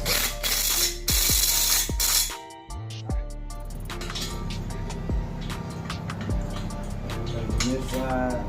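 Ratchet wrench tightening bolts on an engine stand, with quick bursts of loud clicking near the microphone, then a pause and softer intermittent ratchet clicks and metallic clanks.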